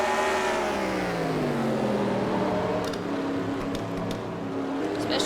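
Stock cars in NASCAR Racing 2003 roaring through the turns at Martinsville, a loud, steady engine drone with pitch sliding down and back up as the pack passes, no voices over it.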